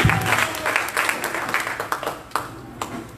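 A church congregation claps and applauds together in a steady, lively burst of many hands, loud and close, with a voice faintly mixed in.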